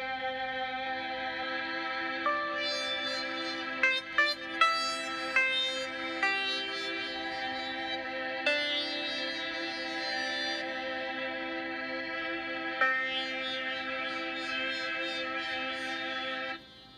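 The GeoShred app plays Moog and Mellotron synth voices mapped per string: sustained electronic tones and layered chords change at a moderate pace, with a few brighter plucked accents midway. It is fairly soft and stops abruptly at the end.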